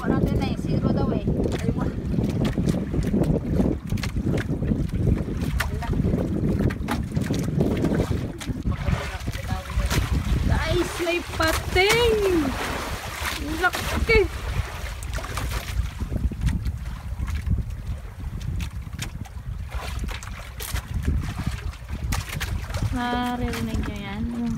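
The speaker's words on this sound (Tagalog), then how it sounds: "Naririnig nyo yan, yung hampas ng alon kung paano kalaki." Sea waves slap against a small fishing boat out on open water during a squid fishing trip off Buruanga, Aklan, with steady broadband wash and wind noise throughout and someone talking over it.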